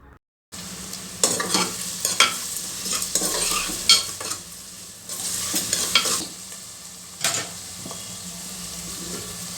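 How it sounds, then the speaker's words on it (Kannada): Chopped onions sizzle and fry in a hot pan as salt is added, with a steady crackle under repeated scraping strokes of a stirring spoon; no one speaks. "ಉಪ್ಪು ಸೇರಿಸಿ ಚೆನ್ನಾಗಿ ಫ್ರೈ ಮಾಡಬೇಕು"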